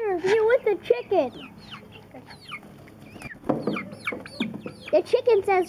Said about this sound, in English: The chicken says squawk, squawk, squawk, squawk, peep, peep, squawk.